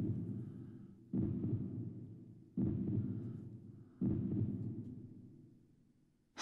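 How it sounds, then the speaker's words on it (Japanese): Loud anime heartbeat sound effect, three heavy, deep thumps spaced roughly a second and a half apart, each fading slowly, with no talk over them. "心臓の音がうるさくても"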